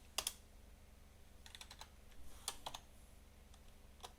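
Computer keyboard typing while entering program code, sparse separate key clicks and short bursts spread across the stretch, close and quiet over a low room hum, with no talking.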